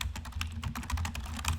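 Quick, light taps on a computer keyboard as a search is typed, in an irregular rhythm of close, soft clicks with no voice.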